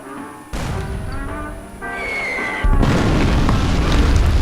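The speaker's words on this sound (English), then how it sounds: "Now, I'm going to fire." Cannon shots and explosions from the strategy video game Greed Corp, a series of booming blasts with rumbling low-end bursts that grow louder toward the end.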